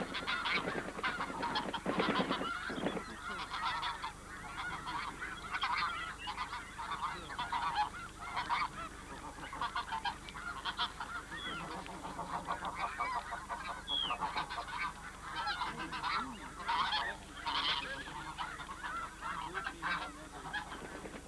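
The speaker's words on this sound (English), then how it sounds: "the snow and blue geese become more restless" A large flock of snow and blue geese honks continuously at Sand Lake Refuge in autumn, a dense overlapping chorus of calls at moderate distance that carries on steadily without pause.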